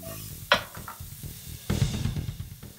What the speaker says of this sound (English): give it a stir, then a toss